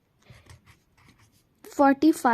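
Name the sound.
writing with a pen on paper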